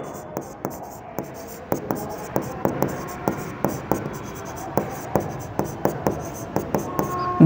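A pen writes on paper or a board in a steady series of short scratchy strokes, repeated roughly every half second, close and clear, while a teacher explains accounting in Marathi.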